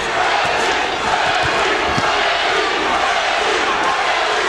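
Boxing fans in an arena chant loudly in unison for Reggie Greene during his fight against Zab Judah, a dense, steady roar of crowd voices that fills the whole stretch without a break.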